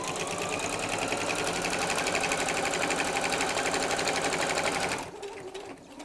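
Sewing machine stitching through three bulky layers of flannel for a rag quilt, a loud, fast, even mechanical whir with rapid needle ticking that runs steadily and then stops abruptly near the end.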